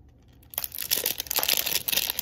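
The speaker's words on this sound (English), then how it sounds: "I better open the plastic bag." Loud, close crinkling and rustling of plastic being handled and pulled open, a dense crackling that starts abruptly and continues steadily.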